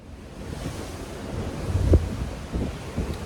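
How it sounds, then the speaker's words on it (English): Strong wind buffets the microphone on the open deck of a cruise ship at sea, a steady broadband rush with surf noise beneath and a louder gust peaking near the middle. "I'm sure it's insanely windy out here"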